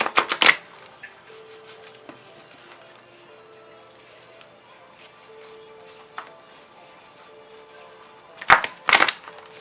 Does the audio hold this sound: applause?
no